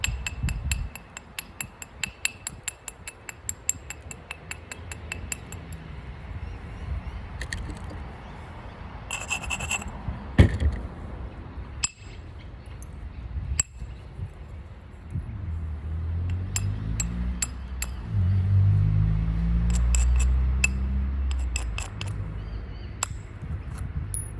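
Flint knapping on a Solutrean biface, with bright clinking strikes and light scraping as the edge is trimmed and raised, irregular close taps spread over a low background rumble.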